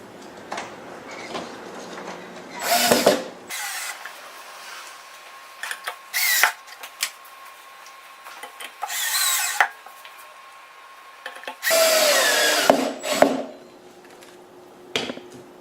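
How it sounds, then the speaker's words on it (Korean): A power screwdriver drives screws into the housing of a Haekang ECO7 air cleaner, giving several short whirring bursts separated by quiet pauses and light handling clicks. "다음 나사를 채워주시면 됩니다."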